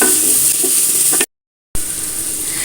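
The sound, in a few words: cauliflower sautéing with salt in a pan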